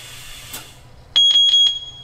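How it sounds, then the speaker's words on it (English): A faint click, then three quick, evenly spaced electronic beeps from a tire inflator signaling 36 PSI, loud and close, with a short tonal hum underneath. "once you hear the three beeps and the tire turns green, you're at 36 PSI"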